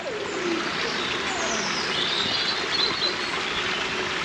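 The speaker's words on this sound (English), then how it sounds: "You can hear the moving water" Steady rushing of clear water flowing from springs fills the scene, with faint birdsong chirping over it.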